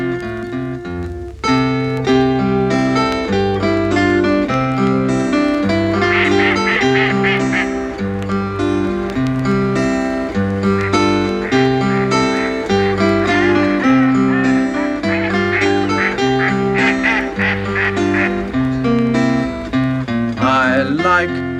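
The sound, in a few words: ducks quacking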